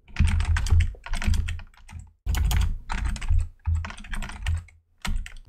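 Bursts of fast typing on a computer keyboard while writing Go code, rapid clustered key clicks in short runs separated by pauses, close and alone.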